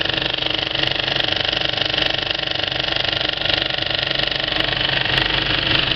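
A Kinoton FP30D film projector runs with a Speco LP270 platter system, giving a steady, close mechanical whir and drone with faint soft clacking blended into a continuous hum.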